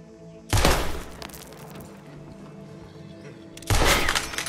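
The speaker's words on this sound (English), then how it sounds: "No, the chains! Shoot the chains!" Two loud, sharp gunshots about three seconds apart in Red Dead Redemption 2, each breaking a prisoner's shackle chains, with a ringing, rattling tail after each blast and no voices between them.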